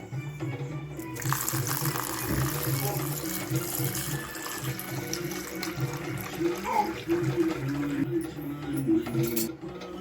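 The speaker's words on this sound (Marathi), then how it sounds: "हे आता पाणी घालून भिजत घालायचं 4 घंटे" Water runs and splashes into a bowl of dried kidney beans for soaking, several seconds of soft pouring and trickling, with faint background sounds.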